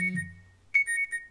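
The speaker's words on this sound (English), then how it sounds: "And now as I click something, it's going to do an alarm." An iPhone system alarm sound triggered from a Swift app in Xcode: a soft low thump, then a loud, clear run of bright electronic alarm tones pulsing close up after a brief pause.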